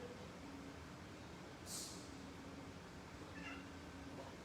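A cat meows once, a short distinct call rising over a steady background hum, followed by a fainter second meow a moment later.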